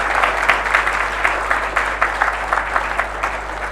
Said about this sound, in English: please let us show our appreciation with another round of applause for our first 3 speakers